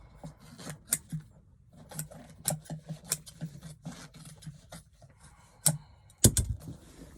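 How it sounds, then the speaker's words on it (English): Scissors or a blade trimming excess upholstery fabric from the underside of a dining chair, a quick series of close, dry snips and rasps with short pauses and a sharper clack near the end. "Cut the excess off."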